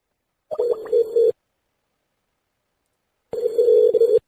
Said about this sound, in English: I'm calling Tom Valentine, the Almont Township Assessor